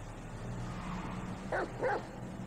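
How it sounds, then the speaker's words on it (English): A dog barks twice in Grand Theft Auto V, two short quick barks in a row over steady low game background rumble, moderately near. "No, Chuck, woof woof."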